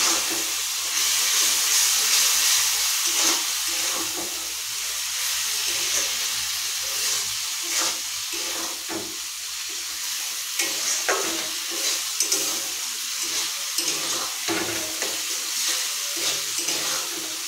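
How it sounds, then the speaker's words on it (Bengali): Chicken masala being sautéed in oil in a pan, a steady bright sizzle and hiss with frequent scraping stir strokes throughout, close and continuous with no talk. "এটা যতক্ষণ না তেল ছাড়বে ততক্ষণ কষতে থাকবে।"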